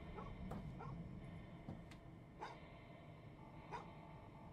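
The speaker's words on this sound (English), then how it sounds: "there's a dog barking." A dog barks faintly in the game Fears To Fathom: Home Alone, a few sharp distant barks and yips scattered over a low ambient hum, spaced irregularly and far off.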